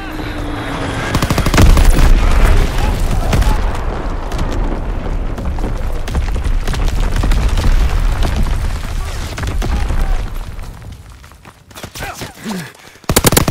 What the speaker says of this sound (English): Incoming enemy artillery. Get to cover. Enemy bomb incoming.